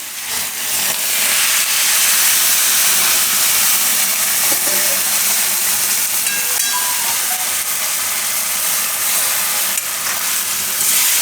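Water hits a hot pan of spiced carrot, radish and potato with a loud, sustained sizzle and steamy hiss that stays strong and even throughout.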